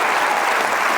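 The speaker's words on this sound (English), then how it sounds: "Give him a round of applause" A TED Talk audience gives a brief, dense burst of applause for a volunteer at a brain magic show.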